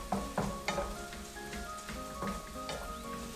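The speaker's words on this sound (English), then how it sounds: "And now we're just gonna give it all a stir." Food with black pepper stirred in a sizzling pot, a steady frying crackle punctuated by several scraping stirs and clinks of the utensil, close and without talk.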